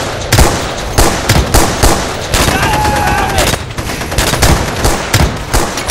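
Rapid, loud machine-gun fire from a toy army men stop-motion battle, with dense repeated bursts and sharp volleys crackling continuously through the scene.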